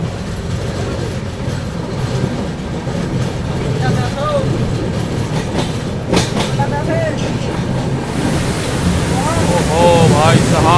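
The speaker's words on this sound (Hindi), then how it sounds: "अभी देखो अपनी ट्रेन पहुंच रही है फरक्का बैरेज पर, जो कि गंगा रिवर के ऊपर बना हुआ है," The Kolkata–Dibrugarh Express rolls across the Farakka Barrage over the Ganges river, a loud, continuous rumble of wheels and carriages with rhythmic clatter, while voices chat faintly under the noise.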